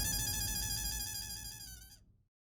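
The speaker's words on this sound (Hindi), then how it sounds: "फोन आ रहा है" A phone ringtone plays for an incoming call, a bright repeating melodic tone loud and close, running steadily for about two seconds before cutting off abruptly, with no voices over it.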